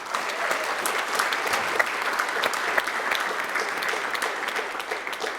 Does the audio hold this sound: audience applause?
yes